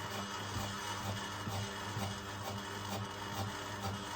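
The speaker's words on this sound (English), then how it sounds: "About 13 seconds to grind" A Eureka Mignon Specialita coffee grinder grinding beans, a steady close mechanical whir with a low motor hum and a faint rhythmic pulsing, running continuously without any talk.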